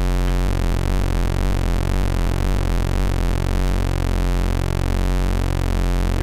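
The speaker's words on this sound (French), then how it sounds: "Donc là je vais faire rentrer un LFO en onde sinusoïdale pour moduler ça." A modular synthesizer VCO sounds a loud, continuous tone whose pitch sweeps up and down in smooth, regular cycles under a sine-wave LFO, with the wobble slowing and deepening partway through.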